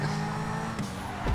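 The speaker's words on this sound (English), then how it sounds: "You ran into the fence." Car in a GTA 5 street race hitting a fence: an engine drones with skidding tire noise, then brief impact thumps land near the middle and at the end.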